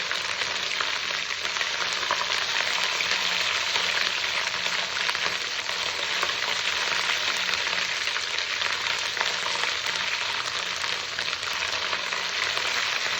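Mushrooms and vegetables with garlic-ginger paste and onion frying in a pan for vegetable rice, a steady loud dense sizzle running without pause and no voices.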